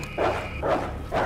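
Dogs in the Resident Evil 2 video game let out three evenly spaced barks or yelps over a steady background hum, close and moderately loud, with no talking.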